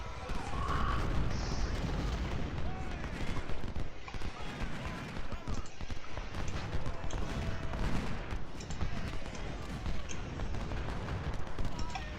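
Artillery fire on a battlefield in the Ultimate General Civil War video game, a dense, continuous rumble of booming cannon and crackling gunfire for the whole stretch with a voice faintly present.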